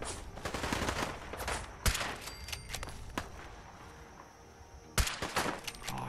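Rapid bursts of gunfire in Fallout 4 VR (Far Harbor), a dense fusillade of repeated shots with sharp louder blasts standing out, close and loud, with no talking.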